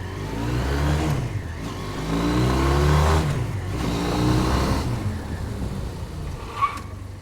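A Ural Neo 500 motorcycle with a sidecar accelerates up through the gears on a test ride, its engine rising in pitch and dropping between shifts, loud and close.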